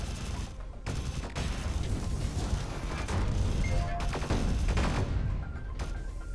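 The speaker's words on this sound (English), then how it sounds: "Fire a couple mag clusters in here" Mag cluster weapons fire in the video game Sublevel Zero, a dense barrage of crackling bursts and booming impacts that runs nearly without a break. Loud mechanical clatter and explosions overlap throughout, with no speech.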